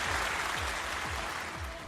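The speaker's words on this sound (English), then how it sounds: "Do we have the round of applause sound effect? I want a round of applause" A short canned round-of-applause sound effect is played into a talk show. It is a brief, even burst of crowd clapping heard alone, with a low rhythmic thumping underneath.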